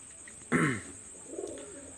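A pigeon of Saki generation coos once, a close, soft throaty burst, followed by a fainter, lower coo a moment later against a steady background hiss.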